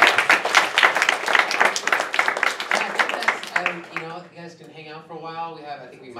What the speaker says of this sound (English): So round of applause for it.